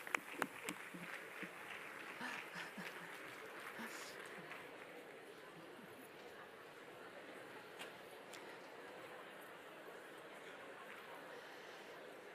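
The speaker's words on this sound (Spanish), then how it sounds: "Muy bien, un aplauso." Audience applause at an education innovation conference in Zaragoza, a steady broadband clatter of many hands that starts with a few sharp claps and holds at an even level for the whole stretch.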